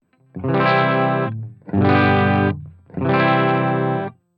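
Three sustained chords of heavily distorted electric guitar through a Line 6 POD Go modeled Greenback speaker cabinet, each ringing about a second with short gaps between, loud and close with no talking.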